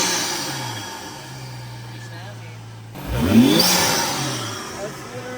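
A turbocharged BMW engine revs up sharply after a low steady idle, swelling into a loud, close rising roar, with people talking over the idle beforehand.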